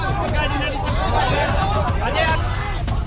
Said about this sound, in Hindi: घटनास्थल पर लोगों की भारी भीड़ है।